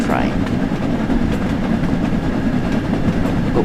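A steam passenger train of seven coaches plus locomotive on Train Sim World 5 rumbles steadily while climbing a gradient, a continuous low rolling drone with faint rhythmic wheel noise and someone talking over it.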